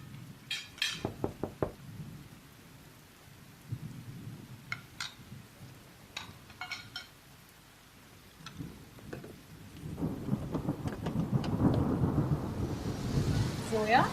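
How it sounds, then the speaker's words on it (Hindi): Heavy rain pours outside with rumbling thunder building into a long low roll, accompanied by scattered clinks of dishes and cutlery nearby and occasional voices. "भाई बड़ी बारिश हो रही है बाहर"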